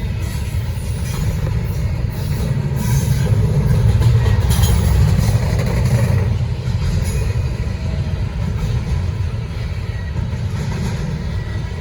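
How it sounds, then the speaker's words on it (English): A Norfolk Southern freight train rolls past on the Charlotte District, a heavy, continuous rumble of wheels and railcars that holds close and loud the whole time, swelling slightly midway, with no voices. "I'm gonna enjoy the train."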